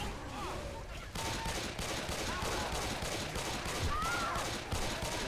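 Rapid gunfire in the zombie shooter Left 4 Dead 2, a dense continuous barrage of shots with game effects and a voice talking over it throughout.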